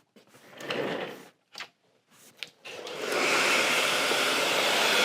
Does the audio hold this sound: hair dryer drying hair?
yes